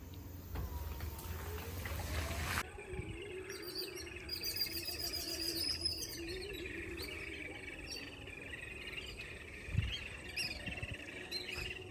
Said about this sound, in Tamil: குருவிங்க எப்படி சவுண்ட் விடுது பாருங்களேன்,